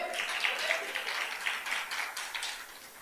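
Faint, distant clapping from a church congregation applauding the Lord, a thin scattered patter that carries on for a few seconds with soft talk faintly underneath.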